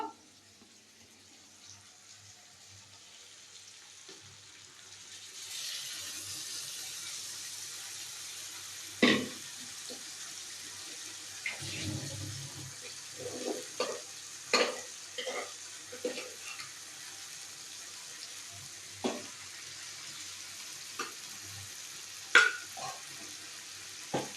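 Pressure-cooked buckwheat khichuri goes into a hot wok and is stirred, giving a steady hiss with a run of sharp scraping clinks from the spoon against the pan, near and clear, with no talking.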